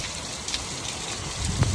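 Heavy rain pours steadily in a broadband hiss, close and continuous, with a few heavier thumps of water near the end and no voices.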